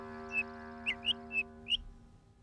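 A small cartoon bird chirps in a children's forest story: five short, bright tweets spaced across a couple of seconds over a steady low background tone, no voices.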